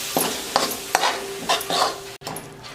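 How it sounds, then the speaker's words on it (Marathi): Pav bhaji vegetables and spices are stirred with a ladle in a cooking pan. Several repeated scraping strokes come close and clear, with a light sizzle underneath and no talking. "आता परत हलवून घेते."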